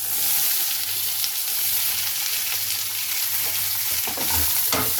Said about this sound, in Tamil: அதே எண்ணெயில் நம்ம என்ன பண்ண போகிறோம்னா, நறுக்கி வச்ச இஞ்சி, அப்புறம் பூண்டு